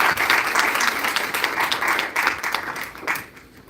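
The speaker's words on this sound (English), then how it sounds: "Please give a round of applause to her." Audience applause at a JIMS Kalkaji event in New Delhi as a speaker comes onto the stage, a loud, sustained crowd of clapping hands that fades near the end.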